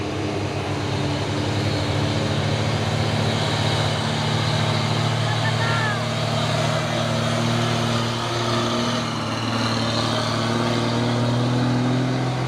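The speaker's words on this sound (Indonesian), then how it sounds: "ini truk UD Kuster melewati tanjakan Bukit Kodok di pagi hari" UD Quester truck climbing the Bukit Kodok hill in Kalimantan in the morning, its engine a steady, heavy low drone that swells slightly and shifts pitch as it labors, continuous throughout with faint background noise.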